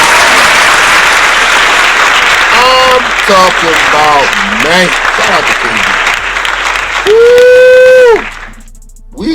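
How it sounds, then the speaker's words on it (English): Loud, dense audience applause runs steadily for about eight seconds while someone talks over it, then cuts off abruptly into near silence. "Can we get a round of applause for Gaddafi?"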